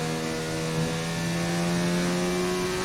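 Formula racing car engine howling at full throttle in a racing video game at the Spanish GP, a steady high-pitched whine with strong harmonic tones holding level and rising slightly as the car pulls through sixth gear.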